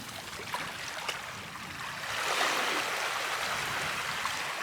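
Sea water lapping at a white-sand beach on Dhiffushi in the Maldives, a steady soft wash of small waves rising slightly midway, close and continuous with no talk.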